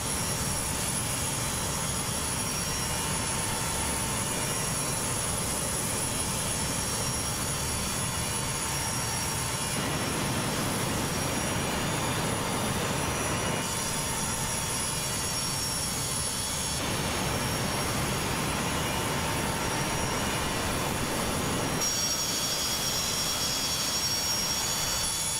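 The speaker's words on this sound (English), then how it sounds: "Those engines are annoying though, aren't they? It's a very high-pitched sound." Boeing 727 jet engines in Microsoft Flight Simulator 2024 during descent, a constant loud roar with a high-pitched whine running steadily throughout, unbroken and with no talking.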